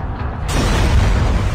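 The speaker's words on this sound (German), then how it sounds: "Die Explosion war nicht so schön gerade." A loud, rumbling explosion in the video game Dishonored: The Knife of Dunwall swells into a sustained roaring blast with heavy low-end noise.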